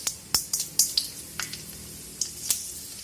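Chana dal hits hot wood-pressed oil with popping mustard seeds, giving a string of sharp, scattered pops and crackles close by over a faint background hiss.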